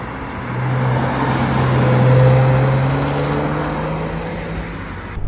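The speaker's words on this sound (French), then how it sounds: "Alors comme d'habitude, on met la clé dans le contact et on part essayer ce Youngtimer." Porsche 986 Boxster S pulling away, its engine rising in a steady, close drone with a smooth upward pitch sweep, no talking over it.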